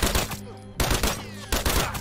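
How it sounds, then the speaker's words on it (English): Gunfire in The Last of Us Factions multiplayer, a match played with a tactical shotgun: loud, close bursts of rapid shots in three clusters, each followed by brief decaying game ambience. "so I just started shooting"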